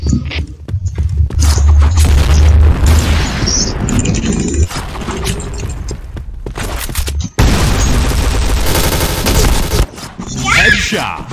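A grenade explosion and bursts of gunfire in the shooter Point Blank ring out loudly, with booms, crashing impacts and rapid volleys in several bursts, mixed with voices and game announcer callouts.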